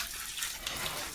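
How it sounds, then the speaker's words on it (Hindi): Water being poured over an SWR drain pipe fitting during bathroom plumbing work, a steady close rushing splash that runs on without pause and with no talking. "पानी को अच्छे डालना है पाइप के ऊपर में ताकि अच्छे ऑटोमेटिकली सेट ले लो"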